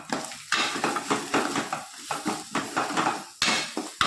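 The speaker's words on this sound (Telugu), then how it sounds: "ఇలా కలుపుకోవాలి బాగా." Chili powder being stirred into a prawn curry in a pan, repeated scraping clinks of a metal spoon against the pan in a brisk, irregular rhythm, close and loud over a soft sizzle.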